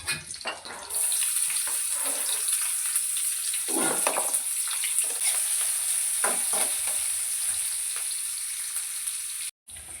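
Garlic and green chillies fry in oil in a pot, a continuous close sizzle and crackle with a few soft stirring knocks, running steadily until a brief break near the end.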